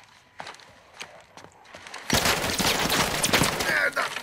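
A few scattered sharp shots give way to a sudden burst of dense, continuous gunfire in Call of Duty: Modern Warfare 2 that stays loud for the rest of the clip, with game-like impacts.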